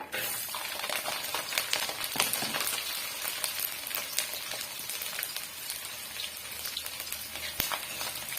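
A handful of peeled garlic cloves fries in hot oil for a pirandai pickle, giving a close, steady crackling sizzle with scattered sharp pops throughout and no talking.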